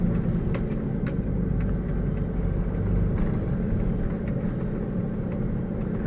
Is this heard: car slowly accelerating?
yes